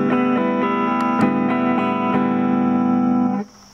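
An electric guitar routed through a second whole guitar as an effect, played into an amp, rings out as a sustained distorted chord with a few picked accents, then cuts off abruptly near the end.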